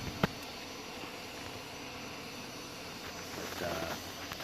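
Remington RM-4620 20-inch gas chainsaw engine running at a steady, even drone throughout, with no throttle changes and no voices.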